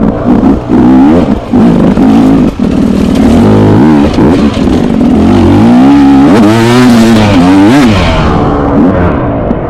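A dirt bike engine sounds loud and close, blipping and revving as the rider shifts down through the gears, with the pitch dropping in steps and then rising through several throttle bursts.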